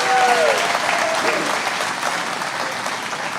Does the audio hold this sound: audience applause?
yes